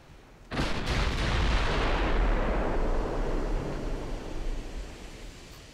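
Battleship main guns firing armour-piercing shells in the naval game Ultimate Admiral, a sudden loud boom followed by a long rolling, rumbling roar that slowly fades, with no talking.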